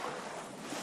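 Water in The Forest video game gives a brief, dense broadband wash like surf or wind-blown water, steady and moderately loud with no voices.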